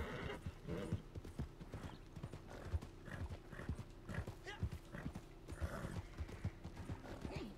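In the video game Red Dead Redemption, a horse's hooves clip-clop in a steady walking rhythm with occasional whinnies and snorts, close and clear, while someone talks.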